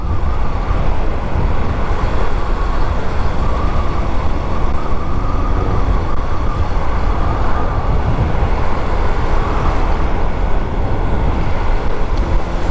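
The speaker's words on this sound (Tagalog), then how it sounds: "Kotse." Traffic on a city road at night in Davao, with a continuous rumble and hiss of passing cars, fairly loud and steady throughout, no voices.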